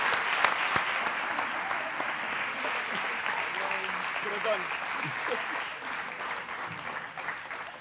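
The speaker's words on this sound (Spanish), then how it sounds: "¡Un aplauso muy grande, por favor!" A large audience at a touring science stage show claps in a big, sustained, dense wave of applause that holds steady throughout, with voices mixed in beneath the clapping.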